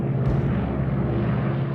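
A steady, droning roar of RAF heavy bomber engines during the opening of Operation Overlord, a dense low hum, loud and continuous throughout, with no voices.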